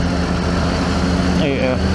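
A 2024 Triumph Tiger 900GT's three-cylinder engine hums steadily at a low, smooth idle-like drone beneath someone talking close to the microphone throughout.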